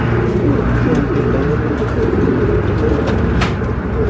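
Pigeons cooing inside a racing pigeon loft, soft repeated coos layered over a continuous low rumble of flock noise, with occasional brief chirps, fairly close and loud.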